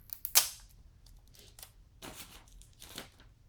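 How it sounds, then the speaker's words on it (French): Sticky tape is ripped off a parcel in short, sharp tearing bursts, a few quick pulls separated by pauses, close and crisp in a quiet room. "Ah, je déteste ça, le scotch"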